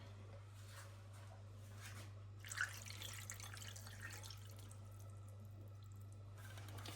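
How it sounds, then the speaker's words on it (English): Wine marinade pours into a pan of browned chicken with bacon, onions and mushrooms, a soft liquid splash and trickle that is faint and close, over a steady low hum from the kitchen. "now I'm going to pour in the marinade"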